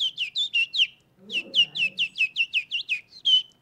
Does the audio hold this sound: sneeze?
no